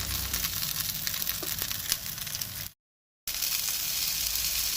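Grey mullet (shevto) fish frying in a pan, Goan style, a steady crackling sizzle close by that cuts out to silence briefly and then resumes.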